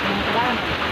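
Steady, loud rain pours down in a constant broadband hiss, close by, at Lake Apo, Valencia City, Bukidnon, Philippines.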